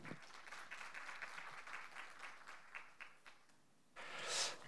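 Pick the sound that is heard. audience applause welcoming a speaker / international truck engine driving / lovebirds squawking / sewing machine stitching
audience applause welcoming a speaker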